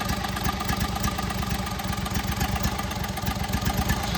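A 1999 Craftsman lawn tractor engine runs rough and choked, with a fast, uneven chugging idle that stays loud and continuous and never throttles up.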